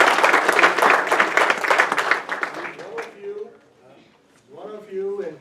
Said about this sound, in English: give this young man another round of applause